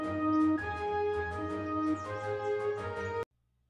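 Music track processed with Audacity's Remove Center Panned Vocals effect, sounding thin and mono, playing steadily at moderate level for about three seconds before cutting off abruptly.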